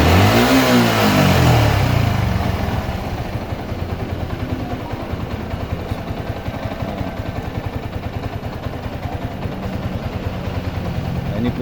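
A Yamaha Xabre motorcycle engine revs up loudly at first, then settles into a steady, pulsing run, heard close by during a charging-system check.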